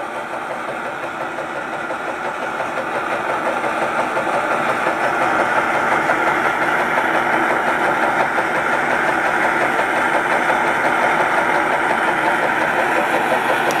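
A Robinson Stirling engine runs steadily with a burner under it, its flywheel wobbling slightly, giving a continuous mechanical hum and fine rhythmic ticking at close range, with no voices.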